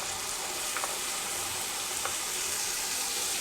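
Onion with ginger, garlic and green chili paste sizzles steadily in hot oil, a continuous close frying hiss with a couple of faint clinks of stirring.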